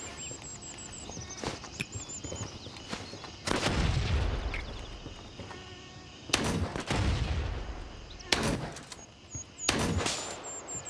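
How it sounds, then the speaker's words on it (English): Grenades bursting in the military shooter Gray Zone Warfare at night, several heavy booms spaced a few seconds apart, each with a rumbling tail, mixed with sharp clicks and shots. "I'm actually going to start chucking a few nades over that side"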